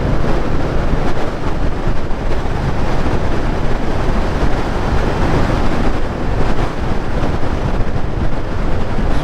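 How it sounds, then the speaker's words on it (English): Strong, cold wind blasts across the microphone in an exposed spot near the Standedge Tunnel, a constant loud roaring rumble with no pauses for the full length. "that wind today, we call that a Halifax wind"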